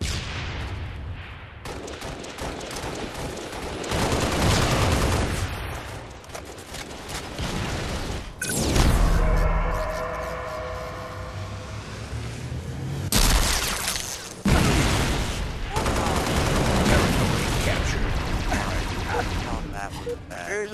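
Weapons firing in Halo Reach beta gameplay, with bursts of loud broadband shots and booming blasts over a dense combat din, close and heavy, while players talk over it.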